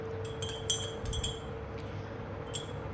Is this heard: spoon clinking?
yes